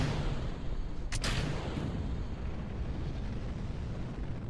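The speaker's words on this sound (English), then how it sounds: "Rocket has fired." Rocket liftoff in Kerbal Space Program, a steady low roaring rumble of engine thrust with a short sharp burst early on, continuing without speech.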